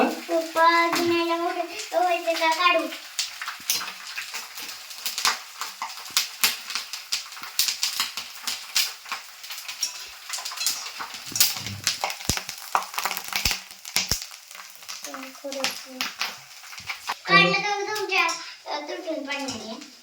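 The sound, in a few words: raw nylon poha frying in oil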